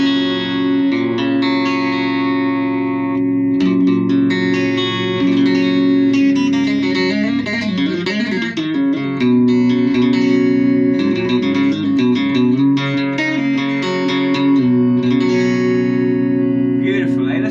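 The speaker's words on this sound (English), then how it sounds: "Let's have some of that Accutronics reverb right now" Electric guitar chords ring out loud and sustained through an amp, washed in a splashy Accutronics spring reverb.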